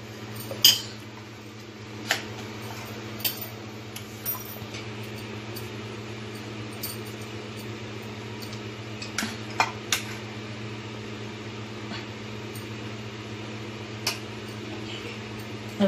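Vegetable momos being set into an idli steaming pot: sparse light clinks and taps of metal scattered over a steady low kitchen hum, with no talking.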